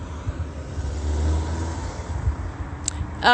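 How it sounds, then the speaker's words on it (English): A large truck drives along a street, a steady low engine rumble of road traffic holding throughout at moderate distance, ending in a sudden louder, brighter burst of noise. "that's a large truck"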